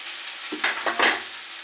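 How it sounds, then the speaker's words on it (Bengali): Water poured into a hot frying pan with green chilies bursts into a loud, close sizzle in several surging waves over a steady frying hiss, with no talk. "এবার আমি এতে জলটা ঢেলে দেবো, আর কাঁচা লঙ্কা ছিলাও কিছুটা দিয়ে দিয়েছি।"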